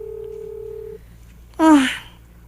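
A cellphone sounds a steady electronic tone for about a second, then falls quiet before a short, loud warbling electronic burst that drops in pitch.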